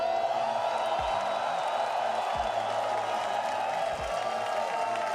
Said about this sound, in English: I want your whole stadium to roar for South America